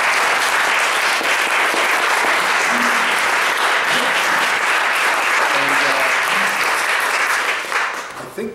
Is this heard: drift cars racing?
no